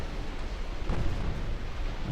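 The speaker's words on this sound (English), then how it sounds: "Took a torpedo hit there." A torpedo strikes a warship's hull in the naval battle game Ultimate Admiral Dreadnoughts, a deep sustained roaring explosion that swells slightly midway and rumbles on steadily without any talk.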